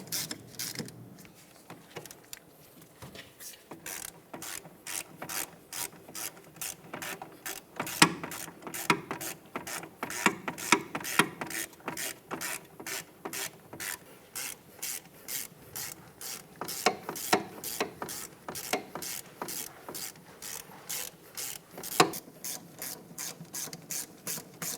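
Ratchet tightening the wheel hub mounting bolts on a 2009-2010 Pontiac Vibe during rear hub assembly replacement, a rapid, continuous run of metallic clicks heard up close and steady throughout, with no talking.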